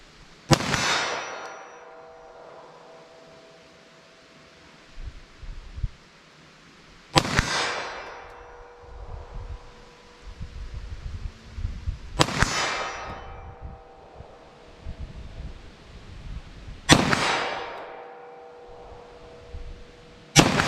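Federal HST 9mm+P pistol rounds fired at a shooting range, four loud sharp reports spaced about five seconds apart, each ringing out with a metallic clang of the hit, a quiet pause between shots.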